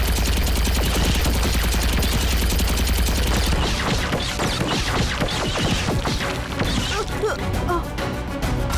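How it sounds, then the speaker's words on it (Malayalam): Cartoon gunfire rattles in dense rapid bursts, followed by a chaotic run of crashes, smashes and thwacks as things are shot to pieces, all loud and close. "പിന്നെ ഈ ചപ്പേട്ട എല്ലാം വെടിവെച്ച് തകർക്കും"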